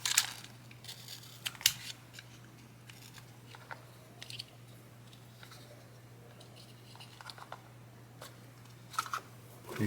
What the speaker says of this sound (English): So you see I'm cutting a little more here.